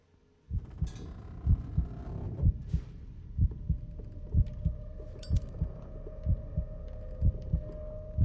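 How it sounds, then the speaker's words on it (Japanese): A heartbeat in a Cthulhu mythos video game starts after a short silence as loud, regular paired thumps pulsing steadily over a low droning hum, with a few faint clinks in the background. "なんかドキドキいう音がする"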